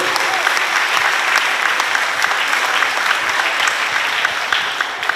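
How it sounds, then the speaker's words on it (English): Loud, dense audience applause at a cultural expo day featuring Kosrae, sustained clapping from a large crowd throughout without a break. "What about a round of applause,"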